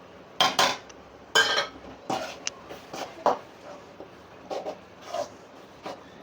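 Spices being mixed into fish biryani gravy (turmeric, chili powder, garam masala, curry masala, coriander powder) with a spoon in a pot, producing a series of scattered metallic scrapes and clinks of moderate loudness, spaced irregularly and heard close.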